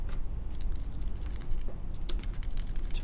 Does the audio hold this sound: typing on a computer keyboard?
yes